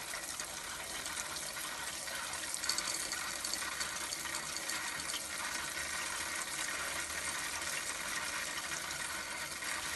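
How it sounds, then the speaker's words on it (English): Cold water running from a caravan shower fitted with a Whale Smart Water Switch, a steady hissing spray that continues unbroken throughout, fairly faint with no voices. "open the shower"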